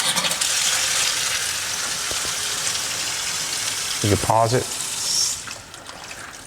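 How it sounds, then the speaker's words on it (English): Tap water pours into a bucket during a car wash, a steady broadband hiss that runs the whole time, with a short spoken phrase near the end and the flow easing off at the close. "Oh, gotta turn the water on."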